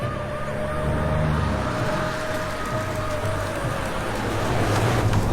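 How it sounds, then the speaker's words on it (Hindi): Police and official vehicle sirens wail continuously, their rising and falling tones layered over a dense rumble of engines and traffic, loud and close. "चारों तरफ सायरन की आवाज गूंज रही है।"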